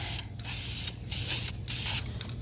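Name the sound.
spray painting wheel barrels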